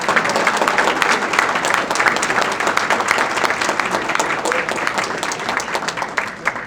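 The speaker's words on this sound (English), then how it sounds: "a wonderful round of applause" Sustained applause from an audience at a university Hall of Fame induction ceremony, a dense, steady wash of many hands clapping at even loudness throughout, with no speech over it.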